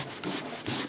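Paper being rubbed off fabric during an image transfer, a soft, close scratchy rubbing in two or three short strokes with no talking.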